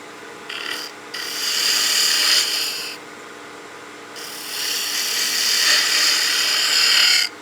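A spindle gouge cutting a half round on spinning wood, close and loud: a short rasping cut, then a longer steady shaving hiss, a pause, then another long sustained cut that swells and stops abruptly.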